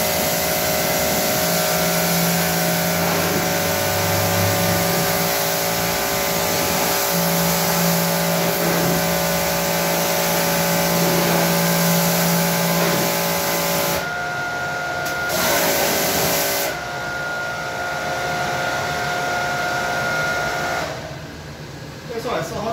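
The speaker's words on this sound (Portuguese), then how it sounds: "Vai fazer um pouco de barulho por causa da lavadora." A pressure washer sprays water into a car's wheel well, a loud steady hiss and motor drone with a constant tonal whine that holds for most of the stretch, then drops and shifts in places.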